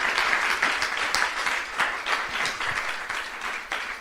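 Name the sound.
congregation applauding in church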